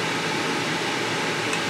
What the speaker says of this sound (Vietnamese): Mình phải mở cái quạt hút á.